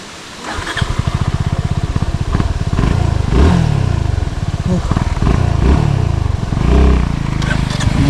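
Motorcycle pulling uphill in first gear on a rough track toward Pemling Waterfalls, its engine chugging loudly and steadily with rhythmic throttle surges and some clatter, close to the rider.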